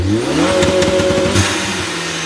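A Ford ST turbocharged engine revs hard and loud up toward 4000 RPM, with rising harmonics and a sustained close, throaty drone.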